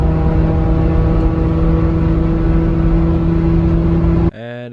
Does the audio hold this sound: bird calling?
no